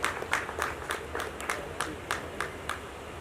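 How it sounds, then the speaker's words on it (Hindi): An audience at a music video launch event applauds, a sustained wash of hand claps with distinct sharp claps standing out in a loose rhythm, close and fairly loud. "रूमी जाफरी साहब से गुजारिश करता हूं पुरजोर तालियों से इस्तकबाल करें"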